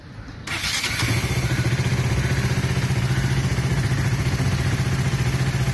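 A KTM Duke motorcycle with a worn clutch starts up and settles into a loud, close, steady running note with a rapid pulsing throb that holds through to the end, with no voices.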